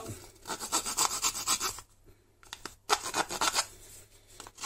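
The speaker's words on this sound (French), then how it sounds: "C'est pas la peine que vous me regardiez limer pendant 1 heure." A small hand file rasps across metal in quick back-and-forth strokes. The harsh scraping comes in close bursts, pauses briefly around the middle, then starts again, with no talking.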